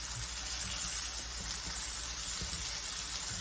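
Food frying in hot Crisco shortening, a steady bright crackling sizzle with small pops, constant and close throughout, with no voices.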